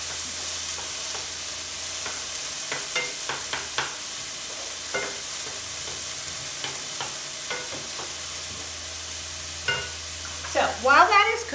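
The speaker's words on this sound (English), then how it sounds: "we're going to allow for these to saute for about 6 to 8 minutes" Vegetables sauté in a pan under a soft, steady sizzle, punctuated by scattered utensil taps and scrapes, with a brief voice-like sound near the end.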